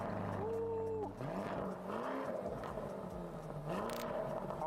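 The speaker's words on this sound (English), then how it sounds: "You gotta hear this engine and this exhaust." A Lamborghini Urus in a GTA video game revs its engine, rising and falling tonal exhaust notes sweeping up and down several times, loud and close, with a harsh crackle near the end.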